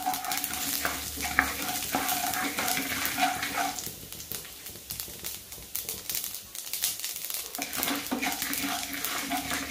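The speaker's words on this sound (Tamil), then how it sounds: "இப்போது நீங்கள் வறுப்பீங்க இல்லையா" Raw banana curry ingredients fry and sizzle in a pan while being stirred, with the spoon repeatedly scraping and clinking against the metal. The sizzle stays continuous and close, and the scraping comes in uneven bursts.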